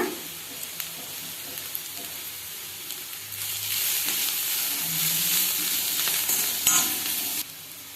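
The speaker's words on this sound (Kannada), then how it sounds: "ಇದು ಹಸಿ ವಾಸನೆ ಹೋಗುವವರೆಗೂ ಸ್ವಲ್ಪ ಹೊತ್ತು ಹುರ್ಕೊಳ್ಳೋಣ." Green chili paste fries in a pan for a mung bean side dish, giving a continuous close sizzle that swells louder midway, with occasional stirring scrapes.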